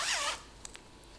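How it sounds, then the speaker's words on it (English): A zipper on a garment is drawn up in one quick, raspy pull, followed by a couple of faint clicks. "I'll be able to zip this up"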